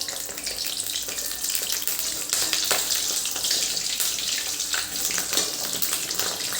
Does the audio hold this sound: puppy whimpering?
no